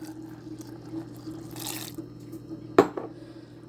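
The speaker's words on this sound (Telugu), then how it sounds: "ఇప్పుడు మనం ఎలా తాగుతాం అలా ఆ లెవెల్లో మనం వాటర్ వేసేసుకోవాలి" Water goes into a blended amla buttermilk mixture in a short splashy pour, followed by a sharp clink of a vessel and a faint drip against a quiet kitchen hum.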